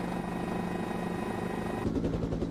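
A police helicopter hovers overhead during a chase, its continuous rotor drone holding steady before a rhythmic chopping pulse becomes more pronounced near the end, loud and unbroken.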